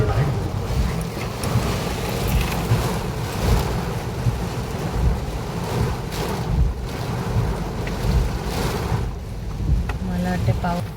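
Strong wind buffets the microphone steadily outdoors during a rainy spell in Ujjain, a continuous rushing roar with some faint talk and background noise mixed in.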